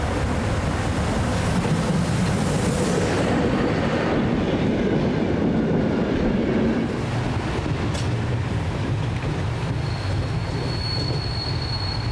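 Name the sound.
heavy freight train passing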